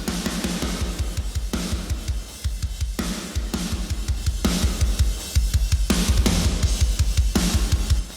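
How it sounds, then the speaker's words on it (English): Heavily compressed, distorted drum crush: a driving kick-and-snare pattern with dense, saturated cymbal wash, loud and aggressive throughout. "This is what the drum crush sounds like."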